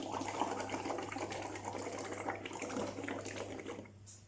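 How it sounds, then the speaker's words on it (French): Air is blown into a liquid to raise coloured bubbles, giving a continuous gurgling, bubbling wash with a faint steady hum underneath, tapering off near the end. "Je vais souffler, les bulles vont sortir"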